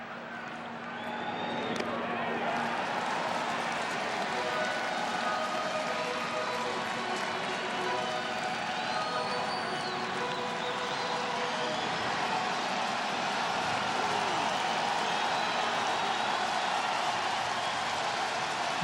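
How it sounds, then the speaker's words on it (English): Opening day crowd at a Cubs baseball game at home against the Pirates, a broad, steady roar of cheering that swells and holds throughout, spread wide and distant, with no clear talking on top. "Opening day crowd on its feet."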